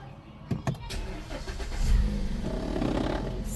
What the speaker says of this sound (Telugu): సింగిల్ సెల్ఫ్ ఇంజన్ అనేది స్టార్ట్ అయిపోయింది.